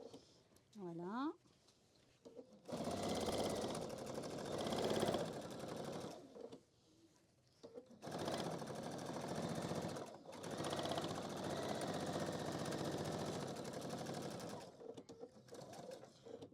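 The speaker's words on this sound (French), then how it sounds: "on a fait notre couture donc de la poche intérieure" Sewing machine running in long steady bursts while stitching the inner pocket seam of a fabric handbag organizer, loud and close with brief pauses between runs and a short whistle-like sound near the start.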